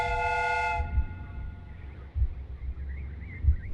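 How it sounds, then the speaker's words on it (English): A steam whistle on a replica train in a Sherlock Holmes video game gives one loud, tonal blast lasting under a second, followed by low rumbling thumps and a quiet mechanical background. "The steam whistle is ready to be used."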